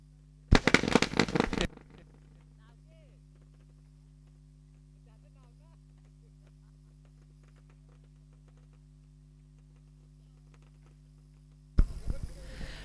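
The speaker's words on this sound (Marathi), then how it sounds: "फटाक्यांची आतिषबाजी मयुरा ज्वेलर्स आमचे ऑनर या ठिकाणी पाहायला मिळतात" Fireworks burst at a night cricket tournament final: a short loud crackling volley at the start, near-quiet hum in between, and another burst at the end.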